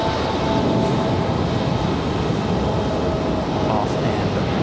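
A PSA Airlines airplane is taking off at Raleigh-Durham airport with a steady, loud, broadband jet roar that holds evenly throughout. A faint radio voice can be heard beneath it.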